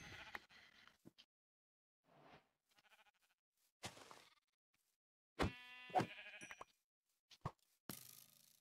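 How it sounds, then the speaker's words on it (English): Sheep bleat in a blocky survival video game, a lamb and adult sheep calling in several separate short cries over roughly eight seconds, with quiet gaps and small clicks between them. "there's a baby sheep and its parents."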